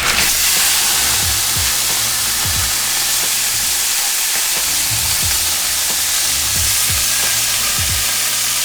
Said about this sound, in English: take our marinated tofu and go ahead and start cooking this